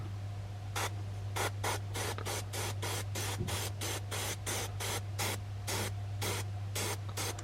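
An airbrush sprays paint onto a flocked mallard drake decoy in about twenty short, evenly spaced hissing bursts, close and steady, over a constant low compressor hum.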